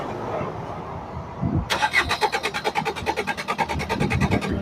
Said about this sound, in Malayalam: ഞാൻ ക്രാങ്ക് ചെയ്യുമ്പോൾ തന്നെ നിങ്ങൾ ശ്രദ്ധിച്ചാൽ മനസ്സിലാവും കണ്ട വണ്ടി സ്റ്റാർട്ട് ആവുന്നില്ല